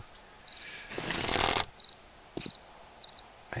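Crickets chirp inside the Darkness Falls mod game world: short, bright trills repeat at a steady pace. A brief rushing burst of noise cuts in between them, and no one speaks.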